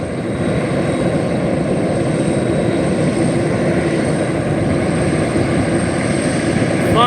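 An MD-11 jet takes off at Reno airport, its engines a loud, continuous, broadband roar that holds steady throughout with no talking.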